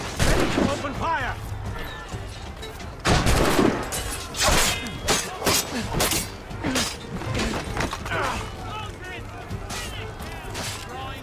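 Gunfire in the stealth-action game Assassin's Creed Rogue, a fusillade of sharp shots and crashes in bursts, loud and close, mixed with shouting voices and clanking mechanisms.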